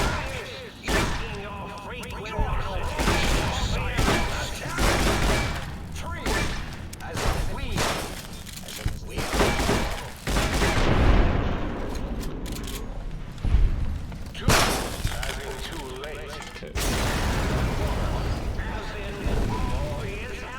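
Big in-game explosion in Fallout New Vegas: booming blasts and rumbling bursts amid constant chaotic game noise, with a person talking over much of it.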